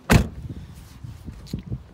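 A single solid thump of a 2000 Buick LeSabre Limited's door shutting, close and fairly loud, followed by faint rustles and small knocks.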